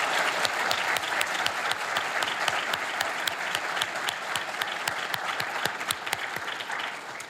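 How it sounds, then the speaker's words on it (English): A crowd applauds elected officials at the 2026 Westland inauguration ceremony, a steady, dense wash of clapping with sharp individual claps standing out, sustained at an even level throughout. "Now let's give a round of applause for all of our elected officials tonight."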